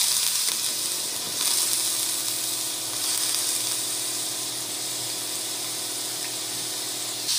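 Raw banana pieces sauté in a thick tomato paste masala, giving a continuous soft hiss and sizzle with a faint steamy crackle at moderate loudness.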